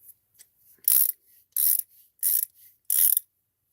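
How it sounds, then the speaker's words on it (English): A ratcheting screwdriver clicks in four loud, crisp bursts spaced about half a second apart, each preceded by faint softer ticks, close up with no talk. "This is a ratcheting screwdriver right here."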